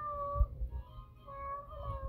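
Cats in a kitten video game meow in two drawn-out, tonal calls, close and clear, with a soft thump between them.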